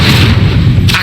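Incendio fire spell cast in the Hogwarts Legacy video game, a loud, dense roaring burst with heavy low rumble sustained through the moment and a brief brighter flare near the end.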